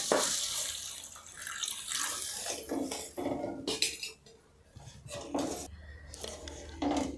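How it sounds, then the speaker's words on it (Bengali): Water from a bowl splashes onto spices fried for a Bengali sorsa bori jhal curry in a village kitchen, heard as soft intermittent pouring and splashing with a few light utensil clinks, fairly quiet. "আমি যে কষেছিলাম মশলা তার উপর আমি 1 বাটি জল দিলাম।"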